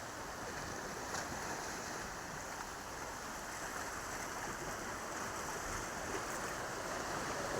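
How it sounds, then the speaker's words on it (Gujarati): Sea waves wash steadily along the rocky Jafrabad coast near the lighthouse, a continuous broad surf roar mixed with wind, close and fairly loud with no voices. "આ રીતે છે કંઈક જાફરાબાદના દરિયાનો નજારો"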